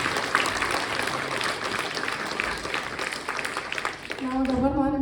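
A school audience applauds at a 100-day celebration, a dense, steady wash of clapping that fills the room, before a voice begins speaking over it near the end.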